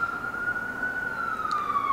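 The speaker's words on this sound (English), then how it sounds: "pause for the sirens." A wailing emergency vehicle siren on a New York City street holds a long, slowly falling tone over steady background noise, fairly loud and continuous.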